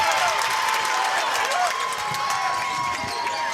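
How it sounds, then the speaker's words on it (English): A packed high school basketball gym crowd roars and cheers in a loud, continuous wash of noise, with a commentator talking over it. "I have to keep turning my crowd mic down. That's how loud this gym has gotten."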